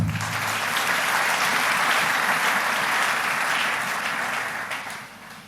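A church congregation applauds together in sustained, dense clapping, loud and steady from the start before easing off slightly near the end, with no voices standing out.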